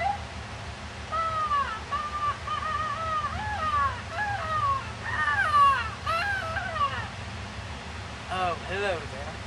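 A man imitates the call of a temperate rainforest bird with a run of whistled, swooping and warbling notes, repeated in short phrases over a steady outdoor background.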